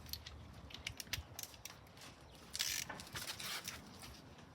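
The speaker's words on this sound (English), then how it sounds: "You're going to need a T20 and a ratchet" Ratchet with a T20 bit working on headlight screws of a 2014 GMC Acadia, giving faint quick clicking pawl ticks in irregular bursts, close but quiet, with a louder rattle midway.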